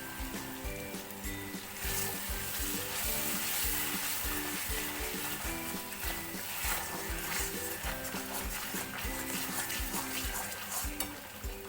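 Cashew and yogurt paste frying with spice masala in a pan, a steady sizzle under repeated scraping strokes of a spoon stirring the mixture, close and continuous.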